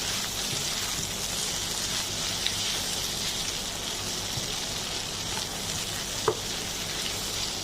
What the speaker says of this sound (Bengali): আমি জাস্ট সবজি এবং মশলার সাথে একটু মিক্স করে নিচ্ছি